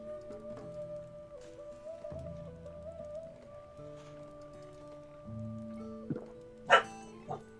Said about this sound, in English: Oh, there goes the dog.